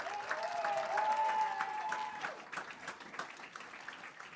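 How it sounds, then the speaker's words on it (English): A crowd claps for a Hall of Fame inductee at a high school varsity football event, the applause sustained and fairly near, thinning slightly toward the end, with a faint whistle early on. "Please give a round of applause for our final inductee into the 2023 Hall of Fame class, Tony Heimer."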